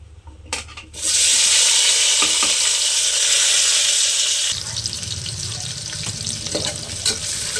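Chopped onion and tomato drop into hot oil and fry, a loud close hiss that bursts in suddenly, then settles into a lower, bubbling sizzle with faint clinks.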